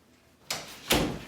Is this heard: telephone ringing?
no